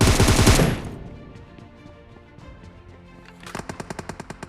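Loud bursts of automatic gunfire in a battle royale shooter as a knocked-down enemy is finished off, an opening volley followed by scattered shots and a second rapid, rhythmic burst near the end.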